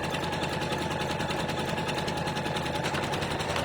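A single-needle embroidery machine stitches flower petals with a fast, steady mechanical chatter of rapid even needle strokes, close and continuous with no talking.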